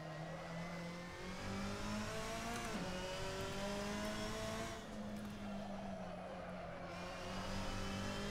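A race car engine in the Assetto Corsa driving game revs hard and steadily, its pitch climbing and dipping as it pushes past the limit, loud and continuous with no talking.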